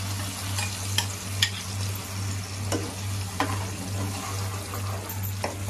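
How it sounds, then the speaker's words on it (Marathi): Garlic and ground masala paste for a Malvani-style surmai fish curry frying in a pan, a steady close sizzle with occasional sharp spoon taps and scrapes as it is stirred. "वाटण घालून हे परतून घ्यायचं।"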